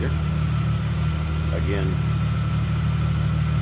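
A 2000 Plymouth Prowler's 3.5 liter 24-valve V6 idles smoothly and steadily, a constant low rumble, while someone speaks briefly over it.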